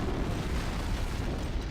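An antimatter charge goes off aboard a ship in Halo Combat Evolved, a dense rumbling blast with broad noise that fills the short span at steady loudness, with no talk over it.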